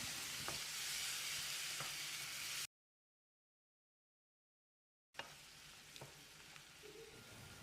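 Thick non-sour yogurt with salt and spices is stirred in a hot pan for a restaurant-style chicken dish, giving soft sizzling and scraping in two stretches broken by a silent gap.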